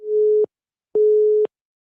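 A telephone busy signal during a radio phone-in call gives two loud, clean steady tones, each about half a second long, separated by a short silence.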